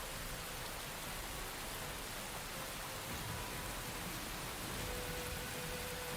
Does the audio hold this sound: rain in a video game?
yes